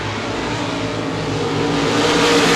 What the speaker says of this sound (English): Heat race number 1 for the ASI Racing is RaceSaver Sprint Cars on the field.